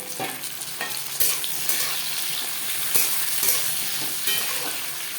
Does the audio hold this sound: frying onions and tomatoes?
yes